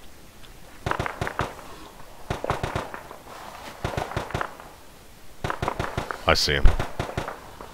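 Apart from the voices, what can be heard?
gunfire in a military video game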